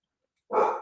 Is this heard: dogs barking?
yes